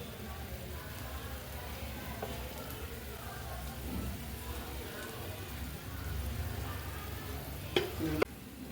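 Oil sizzles steadily around a palm-fruit flatbread frying in a pan, a close, continuous crackling hiss with one or two sharper clicks near the end.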